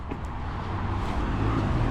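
Road noise from a car going by nearby, a steady broad rumble and rush that swells slightly toward the end.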